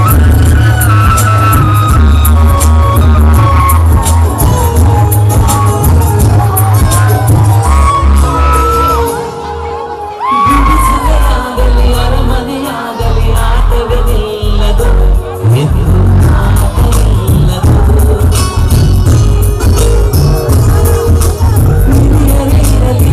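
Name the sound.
crowd applauding and cheering loudly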